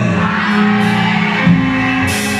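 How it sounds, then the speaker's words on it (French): A church congregation at a New Year's Eve worship service shouts together loudly, a dense sustained roar of many voices lasting a couple of seconds. "Est-ce que quelqu'un peut crier très fort amen?"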